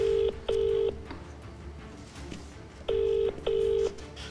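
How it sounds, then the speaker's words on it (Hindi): Telephone keypad dialing tones as the Odisha Chief Minister places a call: four clear, loud DTMF beeps in two pairs, separated by a quiet gap, with no voices. "वर्षा को फोन कले मुख्यमंत्री।"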